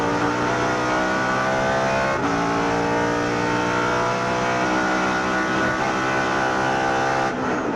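A Lexus sports car engine runs at full throttle during a 2004 Rolex Sports Car Series race at Daytona, a loud steady in-car roar with a harmonic drone and brief shifts in pitch.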